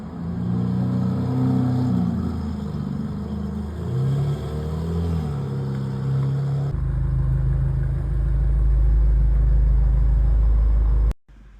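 A stock BMW M5 F90 idles and then revs with a deep, loud, close exhaust rumble that swells into a heavy low drone before cutting off sharply at the end.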